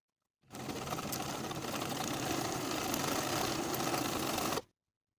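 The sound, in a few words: sewing machine sewing darts on vest bodice pieces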